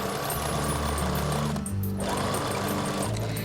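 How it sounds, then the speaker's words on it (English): A sewing machine stitching layers of fabric together, a loud continuous mechanical whir with a fast needle rhythm that briefly dips and slows midway before running on steadily, no speech. "that they're on top of each other, and then just sew it down"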